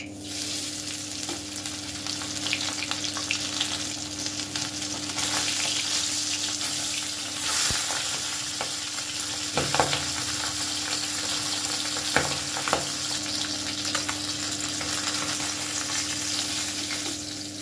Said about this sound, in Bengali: আরও একটা মাছ আমি ভেজে নিচ্ছি